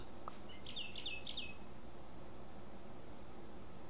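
A bird pet in the video game Super Auto Pets gives a quick burst of three or four bright chirps over a steady hiss, then falls silent.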